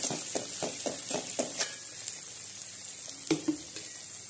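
Masala paste hits hot oil and sizzles, with a run of sharp spitting pops at the start, then a steadier hiss broken by a couple of louder crackles.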